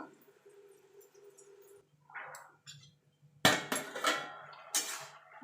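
A lid is set on a pan of cooking greens, giving a few sharp metallic clanks after quieter kitchen rustling.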